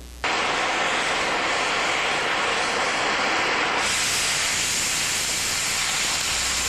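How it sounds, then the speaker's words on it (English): An oxy-acetylene cutting torch with a number one tip, run at 5 psi acetylene and 40 psi oxygen, slices through 1¼-inch steel plate. It gives a loud, steady roaring hiss that jumps sharply in pitch and force when the cutting oxygen cuts in. "This is 1¼ inch metal using a number one tip with 5 pounds acetylene and 40 pounds oxygen."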